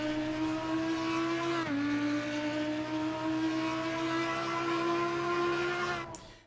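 Audi EVO2 GT3 race car engine in ACC at Bathurst, a loud steady high-revving drone held under full throttle, with a brief dip and gear change near two seconds before the pitch climbs again and fades at the end.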